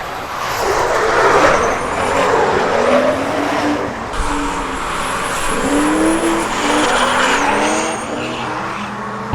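A race car lapping the Rudskogen circuit at a Gatebil festival, its engine roaring loud and close with rising and falling revs through gear changes, and tires squealing as it skids through corners.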